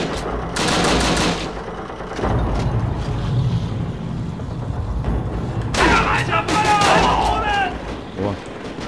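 Bursts of rapid gunfire from Call of Duty: Roads to Victory on PSP, loud and close, with shorter volleys later mixed with game effects and a voice.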